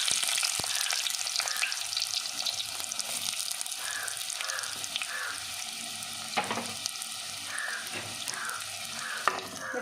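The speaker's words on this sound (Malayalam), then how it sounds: "ഇനി നമുക്ക് ഇതിലേക്ക് സവാള ഇട്ട് കൊടുക്കാം." Sliced onions sizzle steadily in hot coconut oil for a Kerala tomato moru curry, with a constant close crackle and occasional stirring clinks, without talk.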